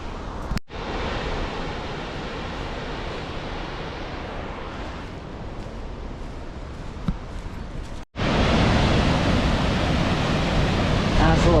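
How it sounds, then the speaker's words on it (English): Nugget Falls roaring steadily beside a silty glacier-fed beach in Alaska, a broad continuous rush with gusts of wind on the microphone, briefly cut off twice and louder after the second break. "Nice little beach area out here, created by this waterfall"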